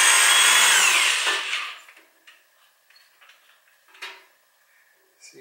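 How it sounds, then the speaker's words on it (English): A power drill bores into material during preparation for a central air installation. Loud, steady whirring runs for about a second and a half, then dies away, leaving faint scattered taps and clicks. "See if they will even drill into this."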